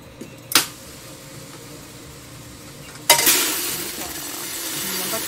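Coffee beans tumbling and stirring in a roaster during a dark roast of Mexican coffee, a steady rushing hiss that swells after a couple of sharp clanks.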